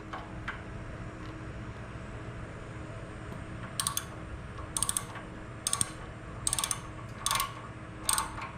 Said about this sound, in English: now you want to tighten back down the stud for the governor shaft